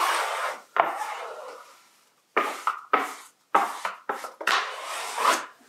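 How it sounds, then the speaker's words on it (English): A squeegee sweeps across WallRock Dampstop thermal lining on a wall, making close, scraping rubbing strokes in short bursts separated by silent pauses, several quick passes toward the end. "Just using the squeegee just to expel any last bits of air and also get any creases out."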